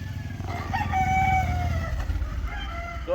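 A rooster crows once on a poultry farm, a drawn-out call rising and falling at mid distance over a steady low rumble of farm noise.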